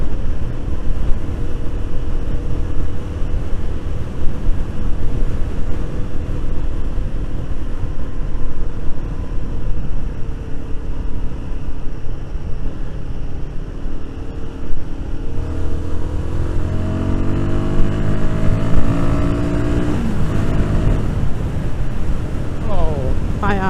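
A Royal Enfield Guerrilla 450 motorcycle is ridden hard down country lanes. Steady engine drone sits under heavy, constant wind rush, and the revs climb and shift in rising harmonic sweeps over the last several seconds.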